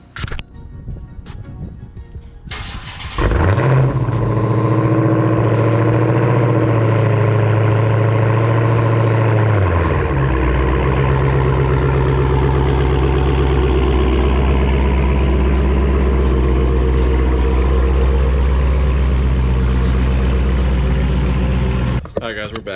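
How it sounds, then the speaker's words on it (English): A pressure washer runs while a Hellcat car is cleaned of drag-radial tire mess after a track day. The machine kicks in after a few seconds of quieter noise, then holds a loud, steady droning hum whose pitch drops partway through. "All right, and pressure washer again."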